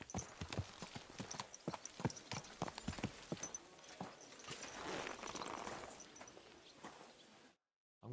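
A horse trots in Kingdom Come: Deliverance II, hooves clip-clopping in a brisk, regular rhythm close by, growing busier toward the middle before cutting to silence.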